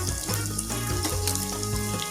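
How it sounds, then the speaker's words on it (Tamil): Grated coconut frying in a pan with dried red chillies, green chillies and curry leaves, a steady close sizzle with hiss and crackle running throughout. "ரொம்ப ஃப்ரை ஆகக்கூடாது தேங்காய், லைட்டாக அது வதங்கினா போதும்"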